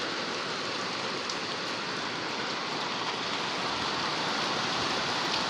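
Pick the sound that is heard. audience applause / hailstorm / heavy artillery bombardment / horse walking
hailstorm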